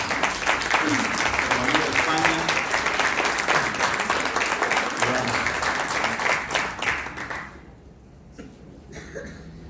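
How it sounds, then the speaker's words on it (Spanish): A conference audience at an international UFO gathering gives a loud, dense round of applause welcoming a speaker, sustained for several seconds before tapering off abruptly into near quiet with a few scattered claps. "vamos a darle un fuerte aplauso a Lourdes Gómez, que viene desde España"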